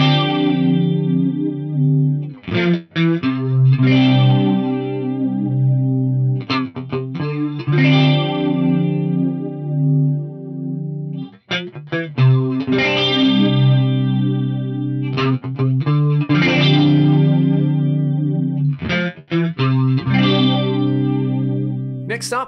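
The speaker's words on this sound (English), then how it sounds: "Wanted a flanger style effect instead, just try add some feedback to that delay in there." Sustained processed tones run through a Fractal FM3 with a flanger-style delay and added feedback. Swirling, sweeping echoes repeat loud and up front in phrases separated by brief gaps.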